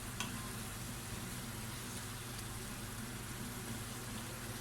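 Boiled vegetables being stirred in a pan for a chicken and vegetable dish, a steady soft sizzling and scraping hiss running throughout at moderate level, with no talking.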